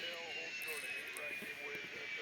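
Airliner in a flight simulator game touching down and rolling out on a runway, a steady jet engine whine and broad rushing roar running continuously throughout.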